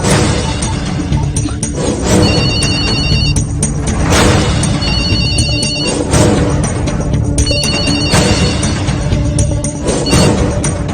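A telephone ringtone rings loudly in repeated bursts over a dense, busy background of music and clatter in a Hindi action movie.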